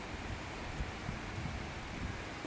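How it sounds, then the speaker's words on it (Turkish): Rain falling during a flood in Mersin, a steady dense wash of noise that continues throughout, with no one talking. "Evet, şu anda yine yağmur başladı."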